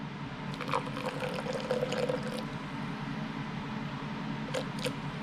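Water pours into a pan of shrimp sauce with lime, a splashing, gurgling stream for about two seconds that then settles into quieter bubbling, with a couple of brief splashes near the end.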